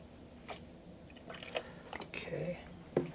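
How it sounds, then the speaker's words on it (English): Water being poured into a container during tube-feeding preparation, heard as short, soft splashing and dripping bursts with some handling noise, fairly close and quiet. "Just put some water into the container."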